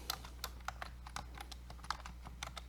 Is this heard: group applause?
no